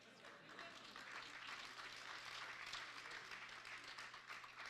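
Audience at a book talk clapping, a soft, even patter of applause sustained across the whole stretch, fairly distant and low in level.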